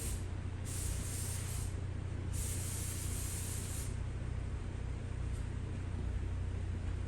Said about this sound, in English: I'm going to take some carb cleaner and just